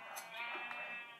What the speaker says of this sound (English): Oh, I hear my sheep.